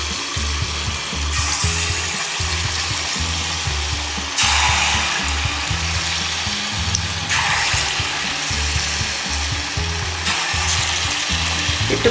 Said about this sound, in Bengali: তেল গরম হয়ে গেছে, এর মধ্যে আমি ভাজাগুলো এক এক করে ছেড়ে দিচ্ছি।